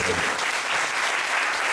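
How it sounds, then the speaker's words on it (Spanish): A church congregation claps steadily throughout, a dense, even patter of many hands filling the room. "Dale un aplauso grande."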